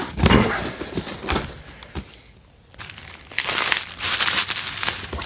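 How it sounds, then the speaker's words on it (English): Packing material crinkles and crunches close up as it is stuffed into a shipping box around a delicate item, with bursts of rustling on either side of a brief quiet pause. "I'm going to put a little more stuffing down in here"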